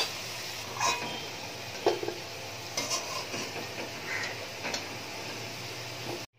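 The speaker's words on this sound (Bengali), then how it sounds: "আলুগুলোকে একটু ভালো করে একটু ভেজে নেব।" Potato pieces fry in oil in a pan, giving a steady soft sizzle with scattered light clicks and stirring taps, fairly quiet, close and without talk.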